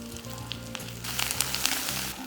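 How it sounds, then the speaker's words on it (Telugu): Thin-sliced onions and curry leaves fry in hot oil, a steady close sizzle that grows louder and crackles more as the leaves hit the pan, with no talking. "ఈ సన్న ఉల్లిపాయలని దోరగా వేయించుకోండి."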